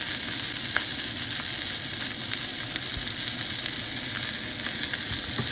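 Steak searing in swirled oil in a hot pan: a dense, even, close sizzle and crackle running throughout, with occasional faint pops and no talking.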